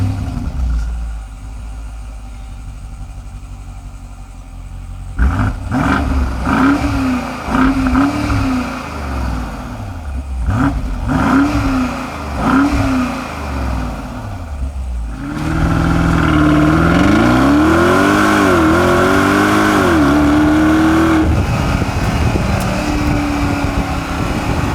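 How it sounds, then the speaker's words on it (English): A 2020 BMW X7's deep V8 engine starts up and revs repeatedly, rising and falling in pitch, then settles into a loud, rumbling idle with further throttle blips. "a lovely sounding exhaust note, and this thing with its V8"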